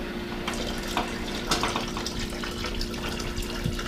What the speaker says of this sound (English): Now you take this water and add it to this kettle.